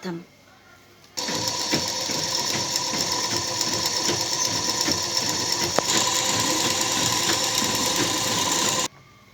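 A sewing machine stitches lining onto fabric in a fast, steady mechanical rattle that starts abruptly, runs for several seconds and stops, close and loud.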